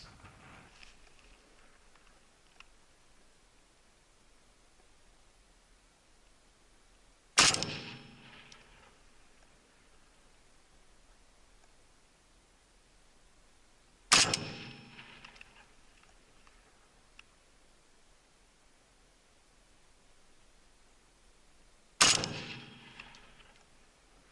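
Three rifle shots, 7.62x39 and 5.45x39 rounds fired at long range in an armor penetration test, ring out about seven seconds apart. Each is a sharp crack with a short decaying tail over a quiet outdoor background.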